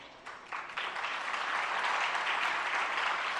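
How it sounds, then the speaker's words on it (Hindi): An audience at a Jain religious discourse bursts into applause, the clapping swelling quickly after a brief quieter start into a sustained, dense round of hands that carries to the end. "ताली बजाने से काम नहीं होगा"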